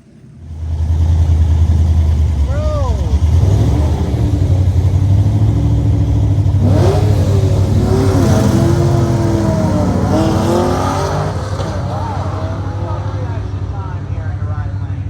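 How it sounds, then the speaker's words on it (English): A fast 1987 production car launching at a nostalgia drag race, its engine roaring loud and close with rising revs and gear changes over about eleven seconds before easing off. "That car was the fastest production car in 1987."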